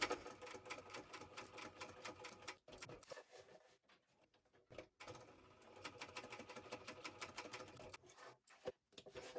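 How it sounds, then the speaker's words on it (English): A domestic sewing machine back stitches and sews a small fabric wallet spine at a short stitch length, running in rapid rattling bursts separated by brief pauses, close and alone. "I'm going to back stitch at the beginning and the end and do both sides."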